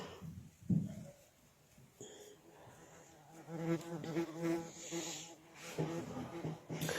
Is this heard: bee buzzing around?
yes